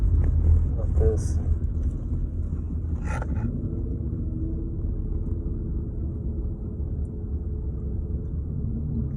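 A race car at a drag strip test-and-tune session at Thunder Valley idles and pulls forward on warm tires, a steady low engine rumble that holds loud and even for the whole stretch, with a couple of brief higher sounds early on.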